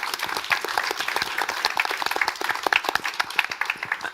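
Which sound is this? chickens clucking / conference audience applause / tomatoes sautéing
conference audience applause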